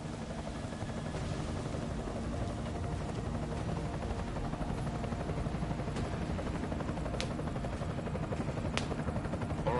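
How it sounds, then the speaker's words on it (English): An enemy helicopter in the video game Deus Ex Mankind Divided thrums continuously with a steady, loud rotor drone throughout, with a couple of sharp clicks over it. "Enemy helo sighted."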